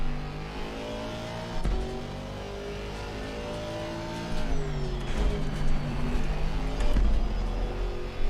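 An Aston Martin GT4 race car in a racing video game at Zandvoort, engine held at full throttle through a corner, a loud steady high-revving drone with upshift drops and brief tire squeal, close and continuous with no talk.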